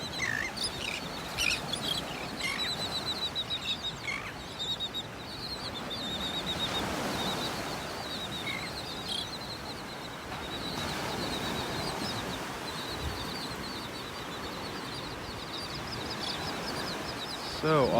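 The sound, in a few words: birds calling on a beach in Naples, Florida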